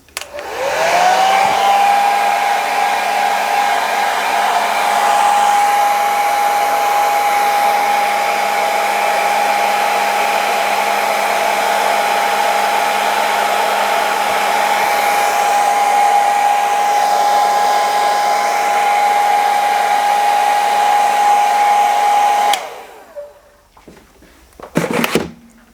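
A hair dryer blowing over a freshly laid layer of cap plastic runs as a loud, steady whine and airy rush for about twenty seconds, then cuts off abruptly, leaving brief handling clatter.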